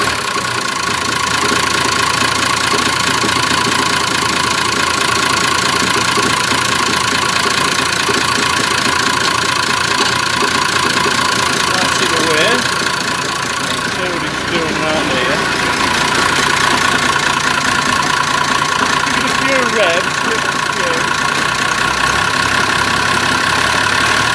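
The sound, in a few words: Massey Ferguson 1200 tractor engine idling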